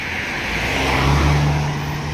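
Chevrolet Cruze car engine running close by, a steady mid-pitched hum that swells briefly in the middle, with no talking over it.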